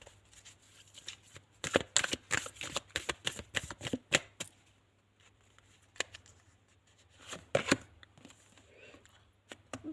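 Tarot cards being shuffled by hand in quick riffling bursts, a dense flurry early on, a pause of light handling, then another short shuffle, close and crisp.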